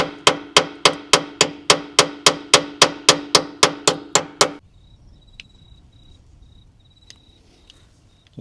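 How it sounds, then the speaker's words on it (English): A stiff nut on an old dump truck's battery terminal is tapped with a hammer, about fifteen sharp, evenly spaced metallic knocks in a fast steady rhythm, loud and close, then they stop, leaving a quiet outdoor background with faint insect chirps. "I'm just going to tap the side of this nut, see if I can loosen it up a bit"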